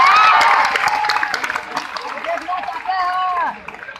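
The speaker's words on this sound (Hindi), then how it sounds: "तालियां हो जाए।" A burst of clapping and crowd noise at a business meeting rises at once and then thins out. Voices and whoops mix in as the applause fades.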